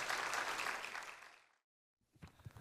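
A church audience gives a short burst of applause for a speaker coming forward, dense clapping that fades out, falls to silence, then gives way to a speaking voice.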